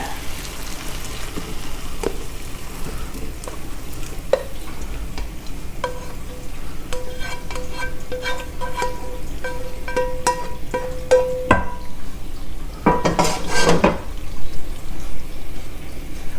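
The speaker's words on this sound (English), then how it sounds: "once these have cooked down enough, we're going to want to drain the liquid." Ingredients for baked spaghetti cook down in a pan, giving a steady close sizzle and bubbling with occasional stirring scrapes and clicks, then a louder rush of pouring liquid near the end as it drains.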